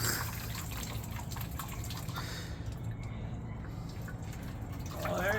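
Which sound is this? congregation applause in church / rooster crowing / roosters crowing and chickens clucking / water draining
water draining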